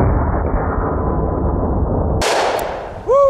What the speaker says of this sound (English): First up is the 357 Magnum.